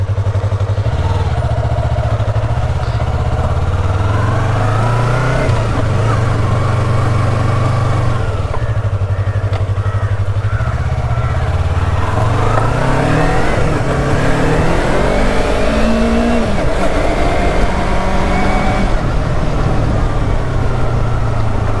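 A custom-painted Yamaha YZF-R3 sport bike on a test ride, its engine droning steadily with repeated rises and falls in revs as it accelerates, close and continuous with no talking.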